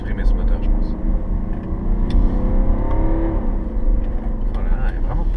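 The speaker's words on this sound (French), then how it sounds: "c'est un diesel, mais il fait un bruit assez sympa. Il grogne." A 2018 BMW X3 30d six-cylinder diesel engine growls steadily, a low rumbling drone that swells briefly as it revs, heard from inside the car with a voice talking over it.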